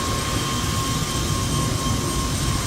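A helicopter flies over the esplanade in Cairns, a continuous loud engine and rotor drone with a steady tonal whine that holds level through the whole stretch, with no talk.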